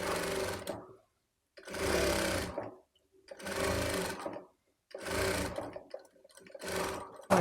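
A sewing machine stitches along the edge of a baby's puff-sleeve frock in five bursts of steady, rapid whirring, each separated by a brief silence, loud and close, with no talking.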